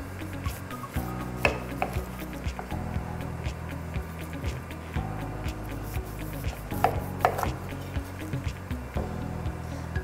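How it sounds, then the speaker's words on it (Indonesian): A knife slices off the top and bottom of a pineapple on a cutting board, giving repeated dull thuds and scraping cuts against the board, close and steady. "Lalu kita buang bagian atas nanas dan bawah nanas."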